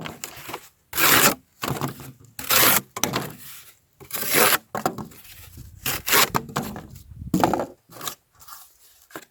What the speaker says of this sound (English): do some cutting. Let's grab us a big old piece of cardboard here.